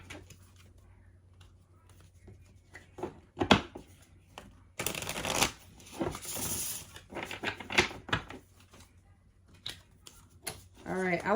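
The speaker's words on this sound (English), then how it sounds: "I like to do this deck a little differently, so I shuffle it a little bit" A deck of cards being shuffled, with bursts of riffling and soft snapping of the cards that come close and moderately loud, broken up by brief pauses and small handling noises.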